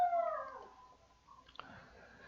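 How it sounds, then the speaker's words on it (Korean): A dog heard faintly in the distance, giving a drawn-out howling yelp that fades away, followed by a quieter, brief whine, all over low background noise. "여기 강아지가 짖고 있네요."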